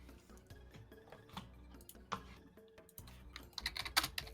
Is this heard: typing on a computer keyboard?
yes